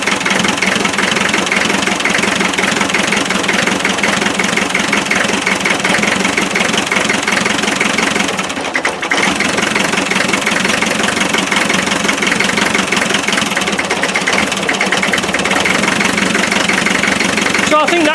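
A 25 NA engine idling roughly with a persistent misfire, a steady close mechanical clatter and knock running throughout with a brief dip midway, while rain falls around it.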